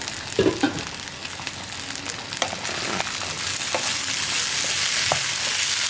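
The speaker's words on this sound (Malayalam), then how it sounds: "ഞാനൊന്ന് ഇളക്കി കൊടുക്കാൻ പോവുകയാണ്" Plantain for a Kerala egg and plantain stir-fry sizzles in a pan while a utensil scrapes and stirs with a few knocks at first, then settles into a steady, close frying hiss.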